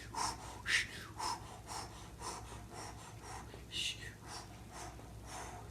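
Deep diaphragm breathing during a seated chair yoga core exercise for someone with quadriplegia: a quick, close run of forceful breaths, roughly two per second, pulses evenly over a low hum.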